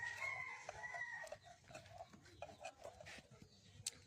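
A chicken clucks and a rooster crows, several short calls and a longer crow close by, with faint background noise.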